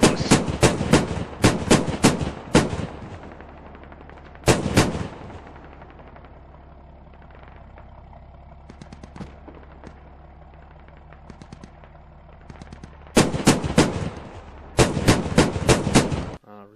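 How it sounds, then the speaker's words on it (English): Heavy .50 cal machine guns fire in the Squad video game during an urban battle, several loud rapid bursts at the start and end, with quieter distant shots in between and no talking. "Oh, they got the 50 cals."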